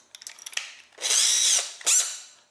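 A Makita right-angle cordless drill whirs in two short bursts, a longer high-pitched run followed by a brief second spin, close and alone after a few light clicks.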